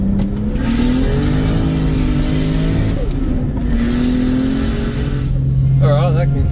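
A Toyota Supra cruises along Tasmanian roads after a misfire repair, its engine holding a steady mid-pitched drone with gentle rises and falls as it shifts and accelerates, heard from inside the car.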